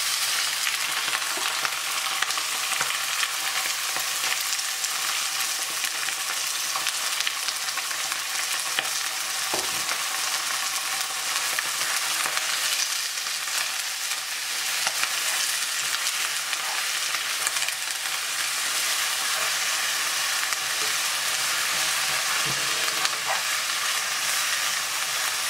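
Ground beef frying with browned onions in a pan, a loud continuous close sizzle with occasional utensil knocks and stirring, no voices.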